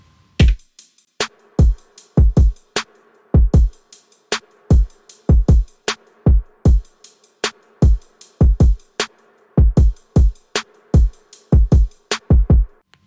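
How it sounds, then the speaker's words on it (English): Programmed digital beat of punchy kick and snare hits in a repeating rhythmic pattern, with crisp hi-hat ticks carrying a delay effect, loud and isolated with no voices. "So put together all the drums sound something like this."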